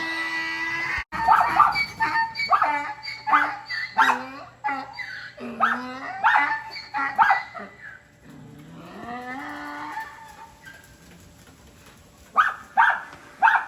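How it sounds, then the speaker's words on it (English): Cattle moo and bellow repeatedly while a dog barks among them near a steer pen, a busy farmyard din with several overlapping animal calls, fairly close and loud. "Even Goose is barking at him."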